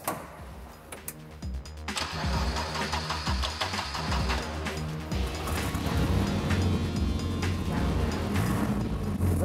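A Volvo 240 Turbo race car engine cranks with a few sharp starter bursts, then catches and settles into a steady, rumbling idle close by with no talk.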